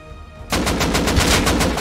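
A sudden burst of automatic gunfire in the survival game Rust, loud and close, with rapid evenly spaced shots running continuously after a quiet start.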